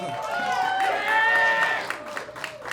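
A comedy club crowd cheers and claps for the sound engineer, loud sustained whoops and yells over applause that swell and then taper off.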